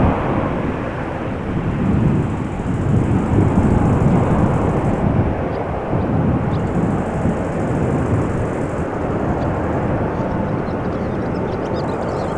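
A Boeing 787-8 Dreamliner roars loudly at Amsterdam Schiphol Airport, a broad rumbling jet engine noise swelling and sustaining for several seconds before easing slightly, heavy and close, with no talk.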